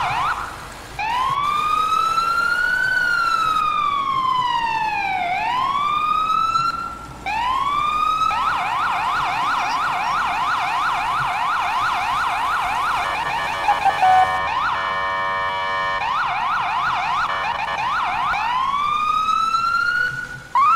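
FDNY Engine 49 and an ambulance run sirens through New York City streets. Loud wailing sweeps give way to rapid yelping cycles, then a pulsing high-low tone, all continuous and close.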